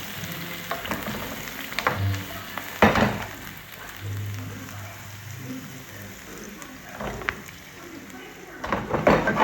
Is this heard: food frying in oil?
yes